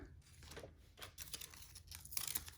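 The top paper layer is peeled off a die-cut Christmas card piece, giving a close, quiet run of soft tearing and crinkling rustles that grow slightly louder toward the end.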